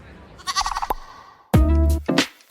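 Sheep bleat loudly and close in several wavering cries, with a shorter burst early and a long quavering bleat near the end, set against near silence between calls.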